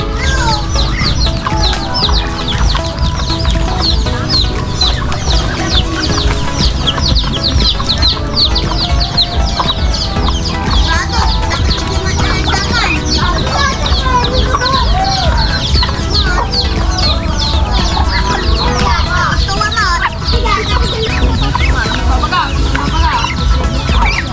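Chickens on a poultry farm at feeding time cluck steadily in a dense, busy flock, with scattered squawks and a distant crow or two, continuous and fairly loud throughout.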